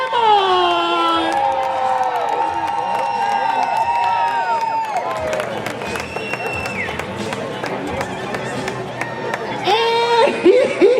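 Crowd at a horse event cheering and shouting, with children's voices and scattered clapping, loud and continuous, voices rising and falling throughout.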